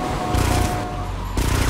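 Drive-by gunfire from a car in GTA Vice City Stories, rapid automatic bursts crackling in two loud spurts separated by a short lull, over the drone of game engine noise.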